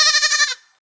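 A goat gives one short, close, wavering bleat lasting about half a second, then it fades to silence.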